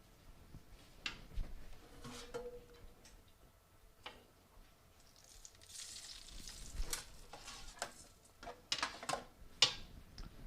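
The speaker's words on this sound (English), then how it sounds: "I'm gonna dump some of this butter out because I burned the butter" Burned butter crackles and sizzles in a hot pan just out of the oven, with a steady spitting fry broken by sharp ticks and clinks, close and fairly quiet with no talk.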